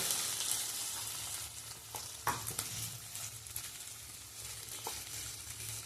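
Mushrooms sizzle and fry in a pan over low to medium flame while being stirred, with steady hissing and scattered scraping clicks of the spoon.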